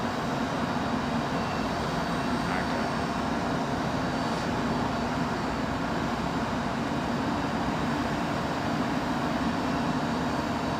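An airliner taxiing at London Heathrow Airport produces a steady broadband jet engine roar, constant and fairly loud throughout, with no voices heard.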